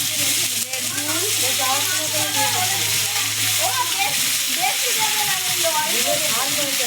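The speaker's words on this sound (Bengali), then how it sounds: "এবার আমি একটু ভেজে নেবো।" Chopped onion, potato and beans with panch phoron fry in a hot pan, a loud continuous sizzle and hiss with stirring scrapes, while a voice talks over it.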